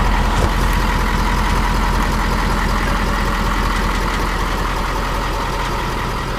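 A tow truck's engine rumbles loud and close as it pulls away from an unhitched 5th wheel RV, a steady heavy drone throughout.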